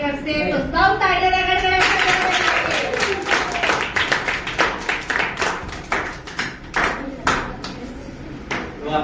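An audience claps after a voice at a primary school Republic Day speech competition in Panvad, with scattered, uneven claps building into loud, close applause that thins out toward the end.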